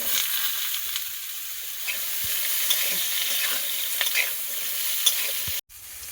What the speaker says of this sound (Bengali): তেল গরম হয়ে গিয়েছে, মূলোগুলো প্রথমেই দিয়ে দেবো।